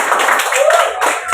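A classroom of students claps hands together in a brief burst of rhythmic applause, close and loud, with voices talking over it.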